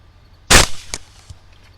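Single sharp rifle shot, from a Grendel rifle, fired at a wild boar hog, loud and close, followed by a short echo and faint knocks.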